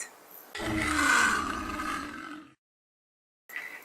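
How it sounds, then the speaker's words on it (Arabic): A lion gives one deep, powerful roar lasting about two seconds, loud and close, followed by a brief silence and the start of another sound. "أسد أسد، يلا نقول أسد"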